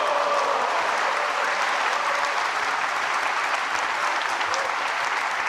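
A snooker crowd applauds a brilliant escape shot at the World Grand Prix, steady loud clapping filling the whole stretch without a break.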